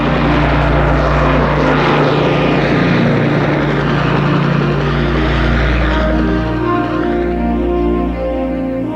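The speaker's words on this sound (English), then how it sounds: "Boeing went on to develop the Chinook battlefield helicopter" A Boeing Chinook battlefield helicopter flies overhead, its loud, steady rotor and engine roar filling the air without pause and easing slightly toward the end.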